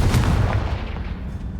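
A Confringo fire spell from Hogwarts Legacy goes off as a heavy, booming blast that hits hard at the start and then rumbles away over about a second and a half.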